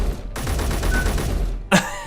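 An automatic weapon in Space Engineers fires a sustained rapid burst of shots in an even rhythm. The firing stops briefly, then a single louder, sharper report follows, loud and close.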